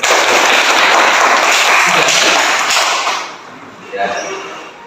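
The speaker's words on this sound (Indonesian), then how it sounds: "Tepuk tangan untuk semuanya." Classroom students clap together in a dense, loud burst of applause lasting about three seconds, then it fades into a few scattered claps and faint voices.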